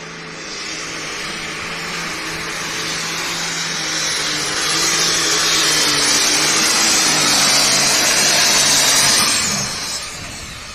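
A pulling tractor roars down the track at the Charlie Swartz Memorial Pull, a tractor pull at the Stark County Fair. The loud, continuous engine roar builds steadily, holds at full power for several seconds, then drops away near the end.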